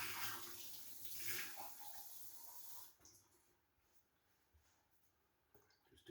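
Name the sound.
cool tap water being added to a bowl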